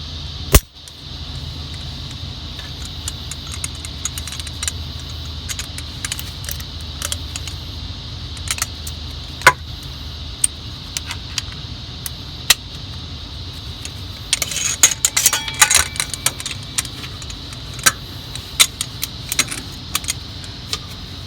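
A torque wrench tightens the exhaust manifold bolts on a 6V92TA diesel with sparse, sharp metallic clicks and ratcheting ticks, clustered more densely midway, over a quiet background.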